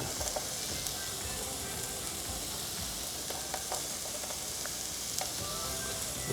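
A close, even sizzle of chicken, onion and bell pepper frying in a pan runs steadily throughout with a few faint clinks and no clear talking.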